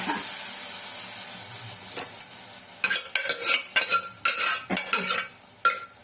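Food is sautéed in a pan with a steady sizzle, while a utensil scrapes and clatters against the metal in repeated close, bright strokes.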